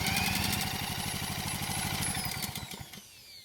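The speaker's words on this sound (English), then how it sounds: "since I'm using a drill to turn the engine over" A Honda lawn mower engine being spun over by a drill for a compression test, a rapid, even chugging pulse of compression strokes with a whirring drill motor, loud and close, then slowing and fading near the end.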